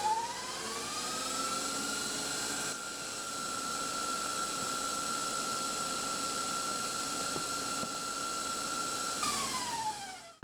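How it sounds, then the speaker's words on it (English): Electric mixer whisking keto vanilla sponge cake batter toward stiff peaks, a steady high motor whine that ramps up at the start, holds evenly for several seconds, then winds down at the end. "You want to make sure you whisk it enough that it gets pretty smooth."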